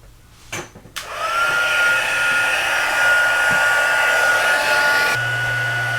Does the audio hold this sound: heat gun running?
yes